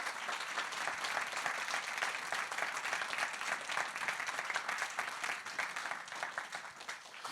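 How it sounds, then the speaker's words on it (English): An audience at a panel event gives a sustained round of applause for the speakers, dense and even clapping with no speech over it. "So if I can ask for a big round of applause for Kristen,"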